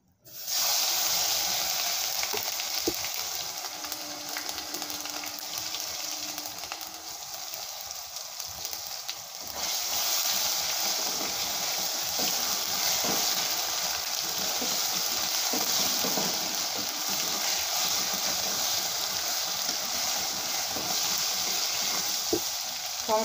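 Tomatoes fry in hot oil with cumin and ground spices, giving a steady, close, bright sizzle that runs without a break, with occasional stirring scrapes and no talking.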